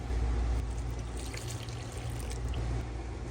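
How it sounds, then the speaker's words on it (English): Water is poured into a flour mixture while making paratha dough, a close, steady trickle and splash with faint mixing noises throughout. "Mix as you add water to make it into a dough."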